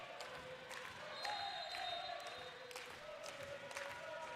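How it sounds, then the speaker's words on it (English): A crowd at a Saint Martin's vs Westminster college volleyball match cheers and chants in unison, distant and faint, with rhythmic claps and shouted calls, and scattered court sounds and echoes around them. "Crowd getting into it with some choreographed cheers."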